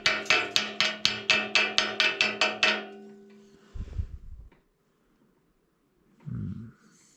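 A rapid series of about a dozen sharp metallic slag hammer strikes on tractor loader metal, evenly spaced and loud, then a few dull thuds and a short low rumble.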